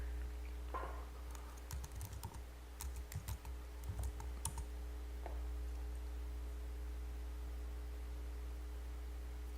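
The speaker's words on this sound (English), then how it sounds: "So in this case, I typed in pregnancy" Quick bursts of typing on a computer keyboard, entering a search term into a search box, clatter over a steady electrical hum, then stop and leave only the hum.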